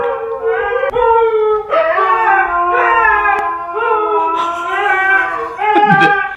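Golden retrievers howl together indoors in long, wavering, siren-like cries that rise and fall, near and loud, with one breaking into a strained whine at the end.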